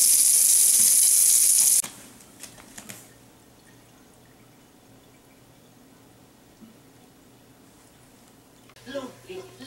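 Water streams loudly into a toilet for a couple of seconds, then cuts off into near-quiet with only faint knocks and rustles, and a brief burst of activity near the end.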